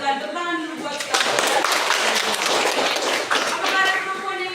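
A classroom breaks into brisk applause, many hands clapping quickly together with children's voices mixed in.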